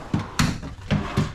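Kitchen drawers in a fifth-wheel travel trailer sliding open and shut, a series of about four quick wooden thuds and rattles close up with no talking.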